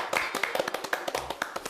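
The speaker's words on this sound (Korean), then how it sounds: "박수라도 조금" A small audience applauding at a live event, giving a short burst of sparse, individually distinct hand claps in an uneven rhythm, close and fairly loud, with no talk over it.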